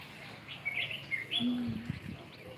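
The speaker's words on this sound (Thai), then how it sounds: "มีนกหลายประเภท เสียงนกกะร้อง" Several birds chirp and tweet nearby in the mountains of Doi Luang Chiang Dao, Thailand, a few bright calls mixed with a lower cooing note against quiet open-air background.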